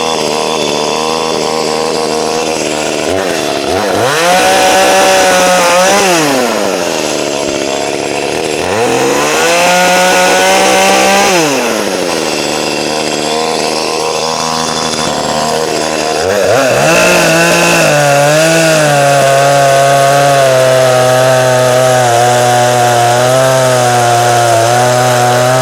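An Echo CS310-ES chainsaw cuts through wood, loud and close, its engine rising into a strained whine for each of several cuts and dropping back between them, then holding a steady high pitch near the end.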